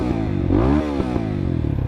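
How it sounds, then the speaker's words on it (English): A CSC TT250 dual sport motorcycle engine revving after a downshift, a close throaty rumble that climbs in pitch, dips, then settles into a steady idle-like putter, with no talk over it. "Oh, I'm gonna downshift is what I'm gonna do. Then I'm gonna throw some revs."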